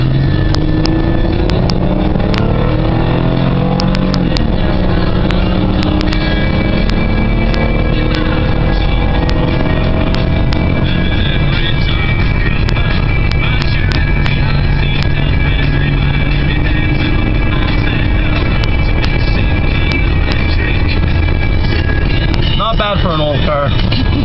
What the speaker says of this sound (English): 0 to 100 kilometer an hour run in a 2001 Chevy Malibu.